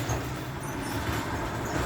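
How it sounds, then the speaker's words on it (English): A loud lawn service truck passes close by, its steady engine rumble and road noise filling the full two seconds without a break. "loud lawn service truck."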